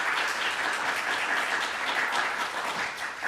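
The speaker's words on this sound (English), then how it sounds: "maybe a big round of applause for our panelists for being here today" Applause from an audience greeting the panelists at a faculty panel event, a dense, steady wash of many hands clapping at once, close and fairly loud, dying down slightly toward the end.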